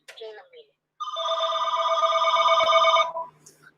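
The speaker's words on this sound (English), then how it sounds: "Love those junk phone calls." A telephone rings with one long, bright electronic trill lasting about two seconds, loud and close, preceded by a brief murmur of voice.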